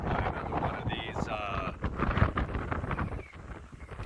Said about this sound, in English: All day it's been very, very windy.